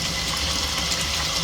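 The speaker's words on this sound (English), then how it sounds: "I'm getting tap water out of the shower" Hot tap water gushing from a shower faucet turned all the way on, a continuous loud hissing rush filling a container, steady throughout.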